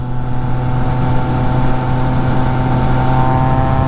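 A Triumph Trident 660 motorcycle exhaust under way, a loud, steady droning engine note with a strong low hum and layered harmonics, held close and continuous with no talking.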